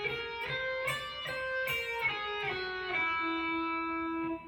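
Electric guitar plays a whole-tone scale, a run of single picked notes each moving a whole step, with sustained tones ringing out clearly and alone.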